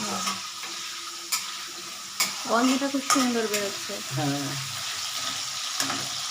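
Potatoes fry in oil in a pan for a spicy tilapia curry, a soft, steady sizzle close by with occasional stirring clatter, while someone talks over it.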